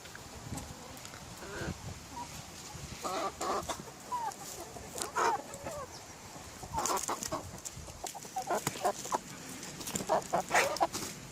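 Backyard chickens, including a young Plymouth Rock cockerel, cluck and call in short scattered bursts over several seconds, with faint outdoor background and no talk.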